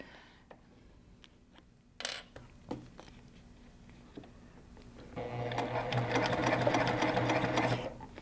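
A sewing machine stitching a zipper with Tex 70 weight thread in both top and bobbin: a few isolated taps and clicks, then a loud, fast, continuous needle run for about three seconds before it stops.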